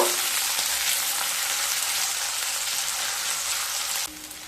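Ten or twelve garlic cloves and a large chopped onion fry in hot oil for a lentil dish, giving a steady, close sizzle with a soft rain-like crackle that suddenly drops quieter near the end.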